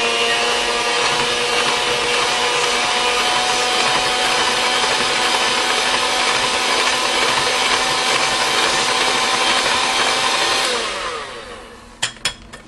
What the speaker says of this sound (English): I'm gonna use my hand mixer today just because it's easy. I'm just gonna mix this up real quick,